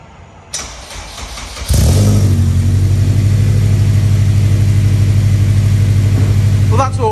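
Toyota MR2 Mk3 with a K20 engine swap and custom exhaust cranks and fires up, then settles into a loud, steady, deep idle right up close, with a brief voice near the end.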